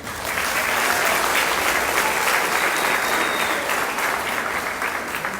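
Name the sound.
audience round of applause at Apple Festival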